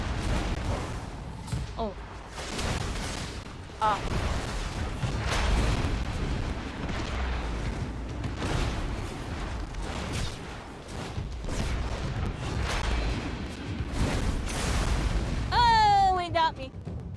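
Repeated heavy booms and blasts from bombs in the fantasy battle game Spellbreak, loud and broadband, mixed with game effects and a brief voice exclamation.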